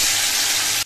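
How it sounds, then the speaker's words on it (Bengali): Boiled bitter gourd pieces fry in hot oil in a wok with a loud, dense, continuous sizzle that stops abruptly near the end. "আগে করলাটাই ভাজা করব।"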